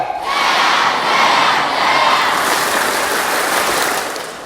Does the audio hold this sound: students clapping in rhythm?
yes